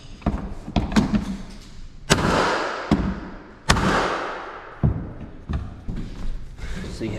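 A flooring nail gun drives fasteners into 3/4-inch hardwood flooring during installation, several sharp loud bangs at irregular intervals mixed with lighter knocks and handling thuds.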